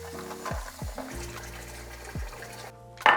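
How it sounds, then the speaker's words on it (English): Dried morels rinsed under running water in a kitchen, a soft steady trickle and splash with a few brief clunks, ending in a short louder gush near the end. "we rinse them just to get rid of the dusts"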